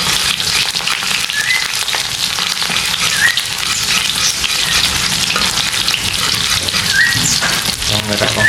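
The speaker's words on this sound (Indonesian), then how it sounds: "Oke, yang pertama kita tumis dulu" Shallots, garlic and spice paste stir-fried in a pan for a vegetable dish: a loud, continuous close sizzle with faint stirring scrapes and no talking.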